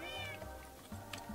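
Several cats meow in a video game: a few quiet, drawn-out cries that rise and fall, heard alone with no talking.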